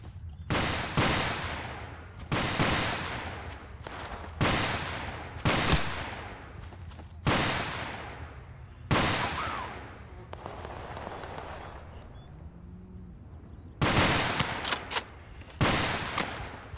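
Gunfire in the video game Total Conflict: Resistance, a series of loud, sharp shots spaced a second or two apart with ringing decays, a pause, then further close bursts.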